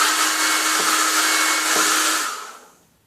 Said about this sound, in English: you can use the hairdryer